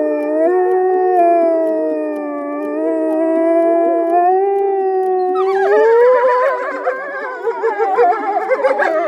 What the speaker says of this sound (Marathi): लांडगा बिरजू तरस ह्यापैकी आवाजाची थोडीफार ओळख होत आहे